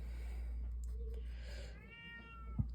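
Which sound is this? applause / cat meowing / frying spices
cat meowing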